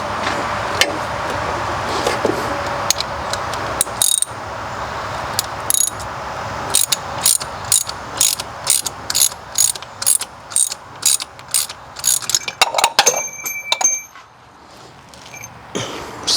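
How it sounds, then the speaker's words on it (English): Ratchet wrench clicking in short repeated bursts as a compression tester is tightened into the spark plug hole of a 2001 Jeep Cherokee XJ engine, close and distinct, alone with no talk. "Get my ratchet."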